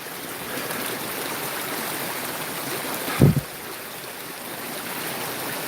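Water flows steadily in a forest stream running a little high over submerged rocks, a continuous broad rush with one brief thump partway through.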